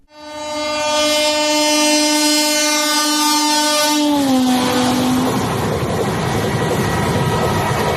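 A Vande Bharat sleeper train on a high-speed trial run, near 180 kmph, sounds a long, loud horn whose pitch drops as it passes close by, then rushes past in a roaring wash of wheel and wind noise.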